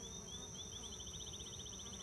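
Honey bees buzz around a hive that is being robbed, a constant droning hum with a faint rising and falling whine, steady and close throughout.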